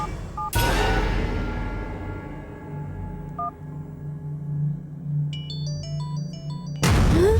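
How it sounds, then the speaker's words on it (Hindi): A mobile phone rings with an electronic, beeping ringtone melody, preceded by a booming hit and a low hum, in a Hindi horror film scene, with another loud hit at the end. "मेरे मोबाइल से कॉल आ रहा है।"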